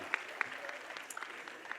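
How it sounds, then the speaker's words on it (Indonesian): Hall audience at a youth volunteer festival lecture gives a soft, fairly distant round of applause, a steady patter of many hands with a few sharper claps standing out. "Boleh kasih tepuk tangan sekali lagi"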